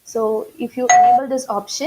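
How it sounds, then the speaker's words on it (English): A doorbell-like raise-hand notification chime from BrainCert meeting-room software sounds as a short steady tone lasting about a third of a second, overlapping a voice that keeps talking. "It's like a doorbell sound. That sound was that notification."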